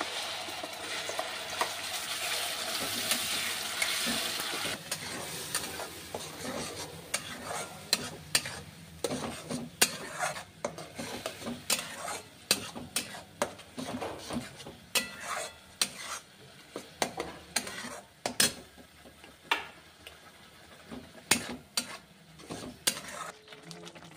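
Spice paste sizzles in a hot kadai, loud hissing at first, then repeated scraping and clacking of a spatula stirring, close up.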